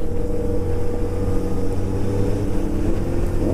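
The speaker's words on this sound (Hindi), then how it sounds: "भाई दोनों सामने जो बाइक दिख रही है ना, दोनों 4 सिलेंडर है, एक है 650 और दूसरी ZX10R" Two four-cylinder sport bikes, a Honda CBR650R and a Kawasaki ZX10R, race side by side, their engines making a steady, loud, continuous roar with a slight rise in pitch toward the end.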